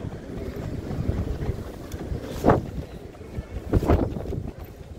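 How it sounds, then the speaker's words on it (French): Gusty outdoor wind buffeting a microphone in Paris on a scooter ride from Gare du Nord to République, a steady low rumble that surges in two stronger blasts, loud and close with no voices. "Il y a du vent les amis, il y a du vent."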